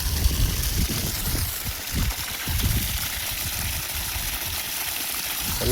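Water gushes from a borewell pump through a 2-inch delivery pipe in a strong, constant rushing roar, with a low rumbling churn beneath it and no pauses.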